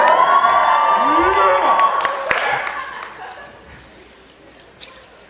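Stand-up comedy audience cheering and shouting, loud at first with voices and whoops over a crowd roar, then fading to a low murmur with a sharp clap or two near the end.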